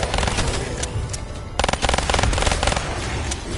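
Gunfire in a video game: rapid, loud bursts of shots crackle continuously, with a dense rattling stretch in the second half, no speech.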